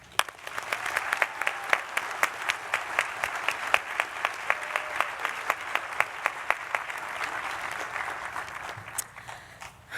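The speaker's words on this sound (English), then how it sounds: "A round of applause, please, for our international students." Sustained applause at a 2020 diploma ceremony honoring graduating international students, a dense crowd clapping steadily for about ten seconds with sharp individual claps standing out.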